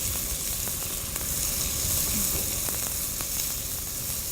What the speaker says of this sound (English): let's add the onions to this now. And we'll have to saute this for a while